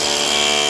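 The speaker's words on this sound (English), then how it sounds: "For the jackhammer mode, you just push down and let the tool do its work." A power drill run in jackhammer mode, a loud, steady, continuous hammering buzz held for under a second with no pause.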